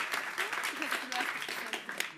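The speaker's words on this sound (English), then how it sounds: "Why are we clapping?" Scattered audience clapping fills a room in a brief, uneven burst, moderately loud, with people talking over it.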